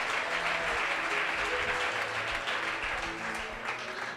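An audience at an evangelical sermon applauds for the mothers, steady dense clapping that holds for several seconds and tapers slightly at the end, with faint voices mixed in.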